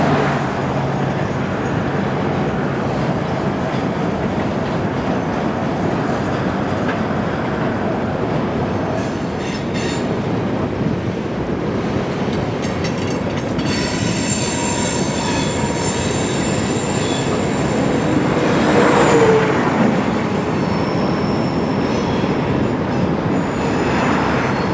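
A freight train over 8,000 feet long grinds past along a river, a steady loud roar of rolling cars with persistent wheel squealing and occasional clicking, lasting the whole stretch without any talk.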